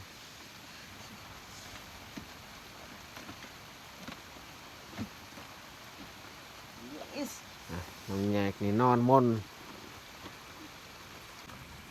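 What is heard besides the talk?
rain falling at night on a farm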